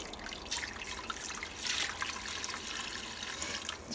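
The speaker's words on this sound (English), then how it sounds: "we're gonna actually pour back in probably like a cup and a half of this liquid" Cooking liquid, about a cup and a half, is poured back into a Ninja Foodi pot while making corned beef and cabbage; a steady splashing pour runs for several seconds with no talking.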